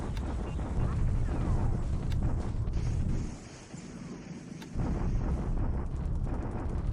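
Artillery bombardment in the wartime strategy game War in the Pacific, a steady rumbling barrage of low booms and scattered sharp cracks that briefly drops away midway before resuming at full strength.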